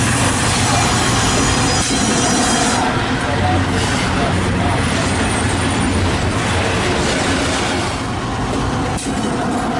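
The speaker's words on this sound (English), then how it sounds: "We're at a location known as Rocky Junction, where we catch a Sperry rail car." An HO-scale Sperry rail car runs along a model railroad at Rocky Junction, giving a continuous close rumbling and clicking of small wheels on track with a faint squeal that holds steady throughout.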